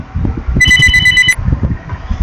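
Telephone ringing during a Factorio gaming session: a single short bright electronic ring, pulsing rapidly for under a second over low steady background rumble.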